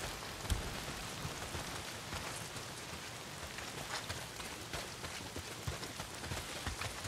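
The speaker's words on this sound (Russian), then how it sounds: "Дождь хлещет." Heavy rain pours down steadily in the video game Days Gone, a dense hiss of drops drumming on surfaces with no letup.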